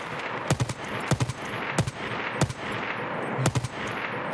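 Automatic weapon fire in the video game Escape From Tarkov comes in loud, sharp bursts about every half second over steady background noise, with no one talking.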